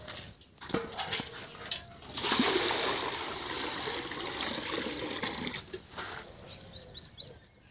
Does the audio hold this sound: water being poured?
yes